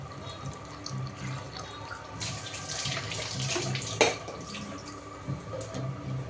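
Strained lentil broth, the cooking water of boiled dal, pours into a pot for Telangana-style kattu charu, a steady splashing, trickling stream with a few brief louder splashes, close and alone.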